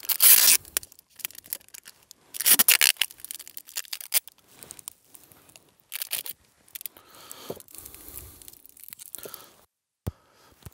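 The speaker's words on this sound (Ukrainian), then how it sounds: "щільно зафіксовуємо скотчем. Ось так, обматуючи сам детонатор з детонаційним шнуром" Adhesive tape is pulled and wrapped tightly around a detonator joined to detonating cord, giving repeated close, crackling tearing and rustling bursts with short pauses between pulls.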